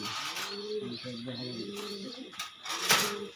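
Giribaz pigeons at a pigeon farm in Kulaura, cooing in close, repeated throaty rolls, with other birds chirping and people talking nearby.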